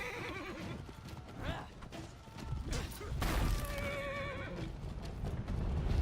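Horse neighs and whinnies with clip-clop hooves during a horseback chase in the video game For Honor, set against a busy, loud game soundscape with crashes and a voice speaking over parts of it.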